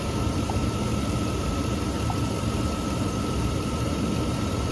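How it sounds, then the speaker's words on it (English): A car engine idles steadily after a jump start, a constant mid-pitched hum and rumble with no change in speed across the whole stretch, heard close up with no talking. "Engine runs great, by the way."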